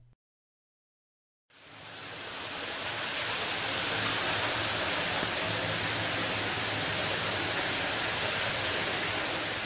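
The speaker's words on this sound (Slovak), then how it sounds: "Tieto zvuky tu vytvárajú približne 80-metrové šachty, do ktorých sa vlieva veľký prúd vody" After a moment of silence, a heavy stream of water pours into 80-metre-deep mine shafts in a flooded mine in Slovakia, swelling into a dense, steady roar that fills the space like a waterfall.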